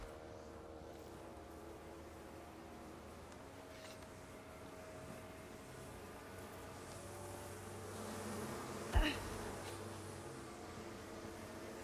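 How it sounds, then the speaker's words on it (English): Bees buzzing at a hive in the game Icarus, a steady faint drone with a low hum underneath and a brief sharp click near the end, with no talk. "And first thing I hear is bees."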